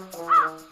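A crow gives a single loud, close caw that rises and fades within a moment, used as a sound effect in a children's fairy tale.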